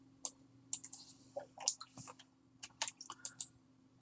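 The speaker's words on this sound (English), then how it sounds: "Let's just type." Keystrokes on a computer keyboard, close and clear, typed in short irregular bursts with brief pauses between them, over a faint steady hum.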